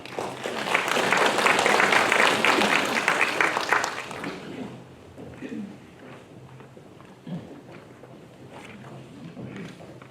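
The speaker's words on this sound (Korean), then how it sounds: "큰 박수로 맞이해 주시길 바라겠습니다" A crowd at an international forum opening applauds loudly for about four seconds to welcome a provincial governor, then the clapping fades out into quiet room noise with a few scattered sounds.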